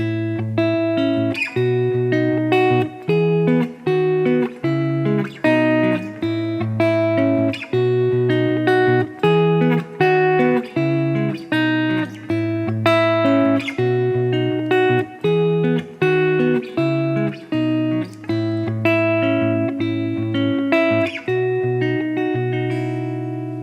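An acoustic guitar strums and picks the chorus chord progression of a song, bright and close, with regular rhythmic attacks and no voices.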